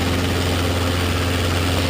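A Robinson R22 helicopter engine runs as a loud, steady drone with a constant low hum, close and continuous, with no speech.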